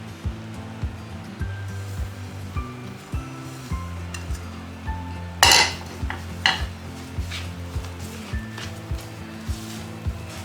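Coconut being stirred into thickening condensed milk in a pan for mango coconut ladoo, with a utensil scraping and clinking against the metal in steady soft strokes and one louder clatter midway, close and alone without talk.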